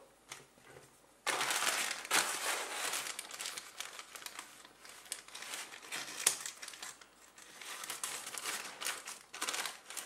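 A padded shipping envelope being opened, with sustained crinkling, crumpling and tearing of the packaging material up close and no talk.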